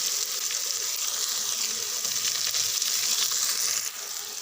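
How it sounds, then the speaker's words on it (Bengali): Onions fry in hot oil for aloo dum, giving a steady, close, bright sizzle with soft crackles and the faint scrape of stirring. "পেঁয়াজ ভালো করে ভেজে নেব।"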